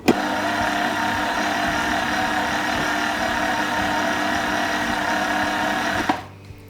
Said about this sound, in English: I'm going to whisk it for a couple of minutes.